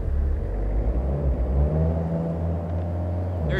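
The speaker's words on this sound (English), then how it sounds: "Bro, something sounds broken in this car." A car engine in the video game Way of the Hunter runs with a rough, rattling, rumbling drone, as if something is loose, falling back partway through; no voices.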